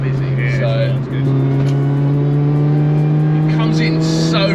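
Supercharged Honda Prelude track car engine revving hard from inside the cabin, a loud sustained drone with strong rising harmonics and a brief dip near the one-second mark, while people talk over it.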